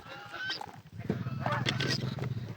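Male ducks honk near the Dhom dam, repeated nasal calls mixed with a crowd of birds and nearby voices talking, fairly close and continuous.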